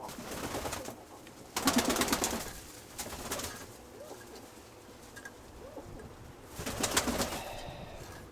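Pigeons coo in soft, repeated bursts at close range, with a few louder rounds of cooing and faint fluttering between them, with no talking.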